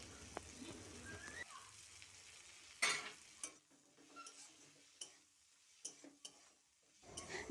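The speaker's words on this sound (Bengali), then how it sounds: "তো এবারে আমি এর মধ্যে দিয়ে দিচ্ছি ভেজে রাখা ঢ্যাঁড়সটা।" Fried okra tipped into a spice masala and stirred in a pan: a faint, low sizzle with a sharp clatter near the middle, then sparse scraping clicks in near silence.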